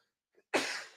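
A person gives a single sharp sneeze, close and loud, preceded by a brief quick inhale and trailing off into breathy noise.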